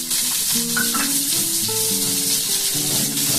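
Chopped tomato dropped into hot oil while cooking a spicy hilsa fish curry with bitter gourd: a loud, steady, close sizzle with crackling spatter throughout, layered over faint sustained tonal notes.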